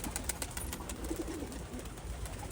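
Pigeons at a loft give soft, low cooing calls close by over faint background noise, with no talk.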